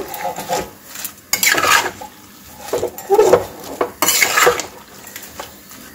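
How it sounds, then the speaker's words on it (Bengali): Shredded cabbage mixed with salt in a metal pot, several bursts of rough scraping and clattering against the pot separated by short pauses, close and fairly loud, with no talking. "দেওয়ার আগে বাঁধাকপিটা একটু লবণের সাথে ভালো করে মিশিয়ে দেব"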